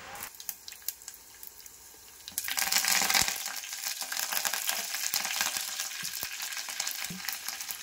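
A pan tempering of chana dal, mustard seeds, cumin and four or five dried red chillies bursts into loud, close sizzling and crackling partway through, then keeps frying steadily with small pops and stirring clatter.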